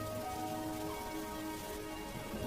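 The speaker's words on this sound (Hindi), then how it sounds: "ये बारिश तो बढ़ती ही जा रही है।" Heavy rain falls steadily on a village with crops left out in the fields, a dense, loud hiss with no gaps and no voices.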